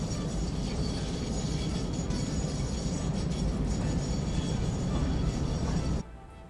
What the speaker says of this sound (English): the train has now made its way back, and it's going to slow as it gets here